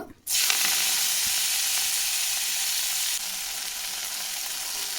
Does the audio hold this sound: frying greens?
yes